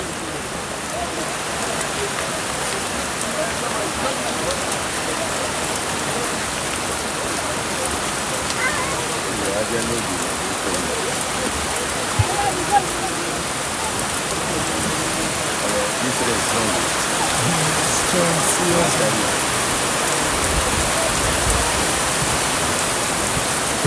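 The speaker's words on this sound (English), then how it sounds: "It's cloudy here and the rain is dropping, but the play continues." Rain falling on a football pitch during a match between Trojan FC and Dynamic FA, a broad steady hiss of drops lasting throughout, with occasional faint voices and small knocks mixed under it.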